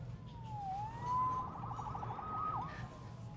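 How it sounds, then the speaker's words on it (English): A police-style siren in the Spider-Man PS4 video game, a faint wailing tone that sweeps down and up over a low city rumble, with a brief yelp near the end. "Saved by the siren."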